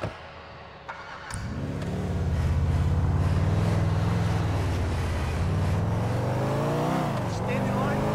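A car is driven in GTA 4, its engine starting up and then droning loud and steady with the pitch rising and falling as it accelerates, while people talk over it.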